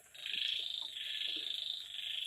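Dense, continuous trilling chorus of young frogs croaking in the rain, steady and fairly loud throughout with no voices.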